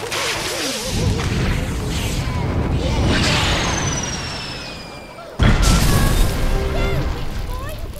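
Fireworks booming and whooshing in the video game Overlord 2, loud rolling blasts with whistling streaks and a sharp burst midway, layered over game voices and a speaking player.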